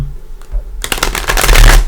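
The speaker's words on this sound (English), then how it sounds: "Let's give it one more shuffle." Tarot cards are shuffled briskly, a quiet tap followed by a loud rapid riffling flutter that runs to the end.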